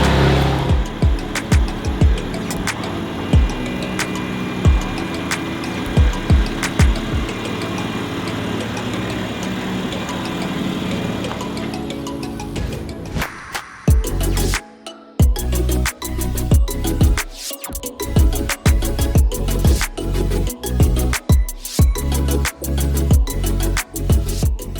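A modified BMW G87 M2 pulls out of a workshop, its engine blipping and revving in short, loud bursts after a steadier, quieter stretch at the start.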